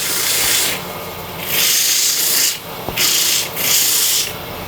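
A sanding mandrel in a chuck spins on a wood lathe, turning away coconut husk with a steady rough rasping hiss that swells in repeated passes, close and loud with no voices.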